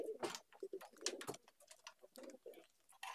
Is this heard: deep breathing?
no